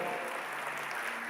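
Congregation applauding during a church service, a steady even wash of hand clapping heard at a distance and fairly quiet, with no voices standing out.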